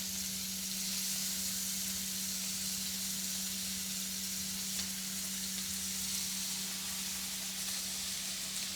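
Jumbo shrimp for jerk shrimp searing in a hot pan, giving a steady, unbroken sizzling hiss at an even level throughout, with no one talking.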